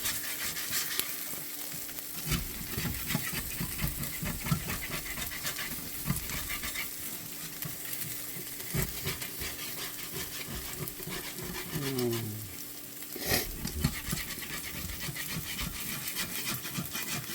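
Eggs frying with a touch of olive oil in a Parini 10-inch cast iron skillet, steady close sizzle with repeated scraping and rubbing of a spatula moving them around.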